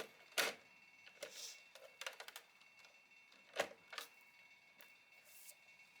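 A Cinch binding machine's lip being closed, giving a handful of sharp mechanical clicks and clacks close up: one firm snap, a quick cluster of rattling clicks, then another solid clack, with quiet gaps between.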